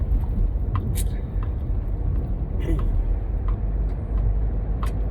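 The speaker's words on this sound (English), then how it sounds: "getting on the highway right now, the car mellows out" Car cruising along a highway, a steady low road rumble and engine drone held throughout with a few faint brief clicks, voices murmuring underneath.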